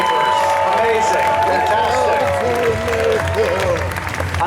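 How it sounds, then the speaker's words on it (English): Loud crowd applause and cheering from a Comic-Con panel audience in a large hall, a continuous roar of clapping with voices talking and shouting over it throughout. "One more round of applause for those great filmmakers."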